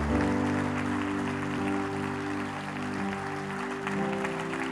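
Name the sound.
church congregation applause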